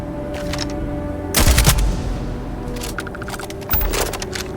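Gunfire from a gun in the Starfield video game, a loud burst of shots followed by a shorter second burst over a steady background hum, no speech.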